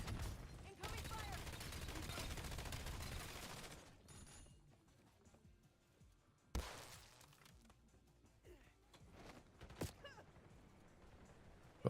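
A loud burst of gunfire in Call of Duty Black Ops 7 for a few seconds, then sparse sharp shots and impacts in a quieter stretch, with a player talking faintly at times.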